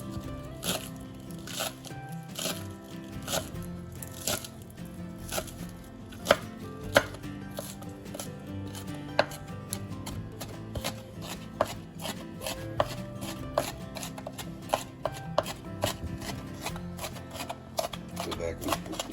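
Large garden onions chopped into discs on a cutting board while making macaroni salad, a steady run of crisp, rapid knife taps continuing throughout, close to the microphone with faint background sound.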